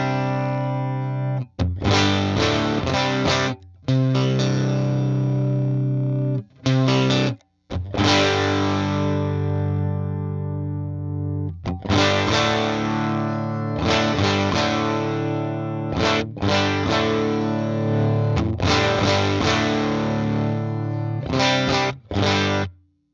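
Electric guitar running through a UAFX Woodrow 55 amp pedal with distortion, thick saturated chords strummed and sustained, with short gaps and palm-muted stabs, loud and close with no voices.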